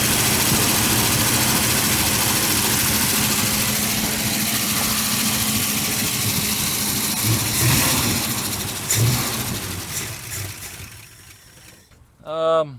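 A 1977 Ford F100 pickup engine that had been stuck runs loud and steady at close range, with a low rumbling idle that fades and sputters toward the end before dropping to near silence, followed by a brief voice.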